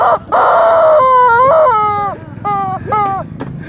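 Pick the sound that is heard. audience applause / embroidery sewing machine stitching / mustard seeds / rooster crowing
rooster crowing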